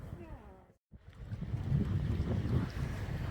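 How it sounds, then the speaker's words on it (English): Wind buffets the microphone beside a lake during a paddling trip at Hidden Lake (Escondido), a loud rumbling low roar that drops out briefly before surging back and continuing steadily. "Wind again."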